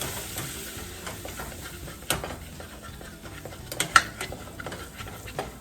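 A spoon stirs cornstarch into melted butter in a pan while cooking honey-glazed pea pods and carrots, a soft scraping and sizzling texture with a few sharper clicks and taps, close and fairly quiet.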